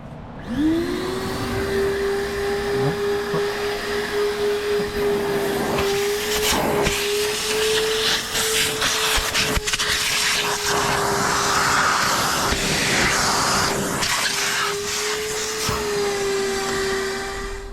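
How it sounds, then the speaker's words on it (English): A vacuum cleaner hoovers the interior of a builder's van, starting with a rising whine that settles into a loud, steady drone with a constant tone, plus rustling and knocks from the nozzle moving over surfaces. "Then grab your hoover."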